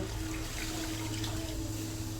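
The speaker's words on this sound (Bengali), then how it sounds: "এখন আমি একটু পরিমাণ মতো পানি দিয়ে দিব।" Water poured into a cooking pot while making a Bengali rohu fish-head muri ghonto with lentils and potatoes, a steady soft splashing pour close by with a low hum underneath.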